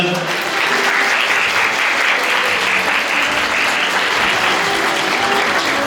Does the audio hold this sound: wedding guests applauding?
yes